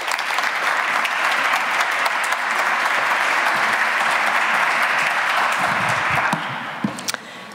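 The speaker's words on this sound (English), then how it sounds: "Please welcome on stage a big round of applause for Kaja Kallas." A conference audience applauds loudly and steadily as a speaker is welcomed on stage, dense continuous clapping that tapers off near the end with a few isolated claps.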